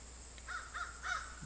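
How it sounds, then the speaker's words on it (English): Crows outdoors at a New Hampshire volunteer fire department flea market give three faint, distant caws in quick succession over a steady background hum. "there's some crows."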